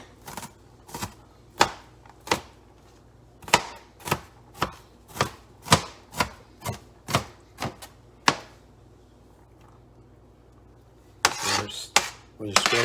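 A knife chopping pickles on a cutting board for a Big Mac replica, a dozen or so sharp, close, evenly spaced taps, then a pause and a brief burst of scraping and knocking.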